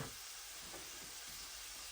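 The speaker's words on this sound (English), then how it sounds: "All right, well, we'll keep stirring that." Steady hissing sizzle of a brown sugar, vinegar and mustard mixture being stirred on the heat, continuous and close with no distinct strokes.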